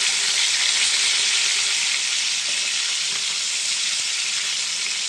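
Pieces of fish fry in hot oil until golden, giving a loud, steady, close sizzle that runs unbroken throughout with no voices.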